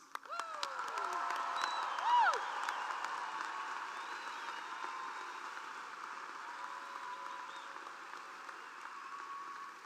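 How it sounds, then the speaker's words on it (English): A large graduation ceremony crowd in a big hall applauds for the graduates, a sustained roar of clapping with cheers and whoops rising early and then slowly fading. "Let's do one more round of applause"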